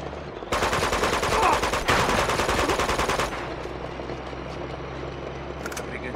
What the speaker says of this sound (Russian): сейчас он палить быстро начинает